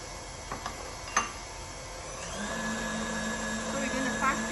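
An electric mixer whirs steadily through cupcake batter of flour and oil, starting after a few clicks and knocks and holding a low, even motor hum to the end.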